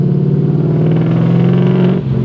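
A loud 2013 Ford Mustang GT V8 with a six-speed manual holds a steady, deep, throaty rev, then drops off sharply near the end, heard close and alone.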